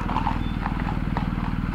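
Mounted police horses walk past on a city street, their hooves clip-clopping in a steady rhythm under a constant low engine-like rumble.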